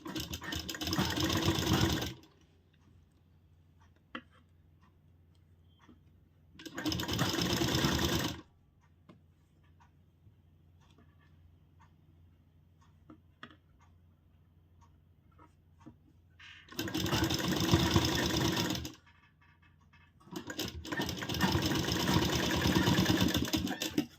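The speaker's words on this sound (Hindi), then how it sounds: "यहाँ पे डबल सिलाई लगाएंगे" A sewing machine stitches a blouse in four loud bursts, each a few seconds long. Near-silent pauses separate the bursts and hold faint handling clicks.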